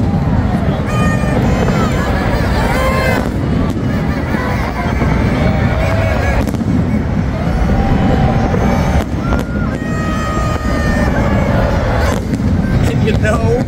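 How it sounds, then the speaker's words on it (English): Fireworks burst over the Las Vegas hotels near Treasure Island, a loud, continuous rumble of booms and crackles layered with crowd babble and traffic noise throughout. "that was a pretty amazing 8 minutes of fireworks"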